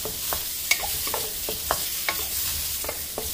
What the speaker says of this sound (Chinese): 黄油化掉了，然后开点中火炒， 就这样不停地晃动，不停地